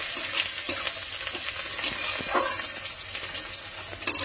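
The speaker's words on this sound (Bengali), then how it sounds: "পেঁয়াজ কুচি রসুন এবার ভালো করে আমি ভেজে নেব আরো সুন্দর করে।" Chopped onion and garlic fry in hot oil with dry red chilli and whole cumin, a close, continuous sizzle broken by the scrape and clink of a spoon stirring in the pan, with no talking.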